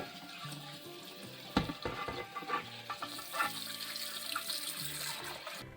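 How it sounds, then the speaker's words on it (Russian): A freshly washed baking dish rubbed under water, giving short squeaky scrapes among trickling and splashing water, close up and intermittent, several squeaks after a sharp knock near the middle. "Слышите? Она аж скрипит от чистоты."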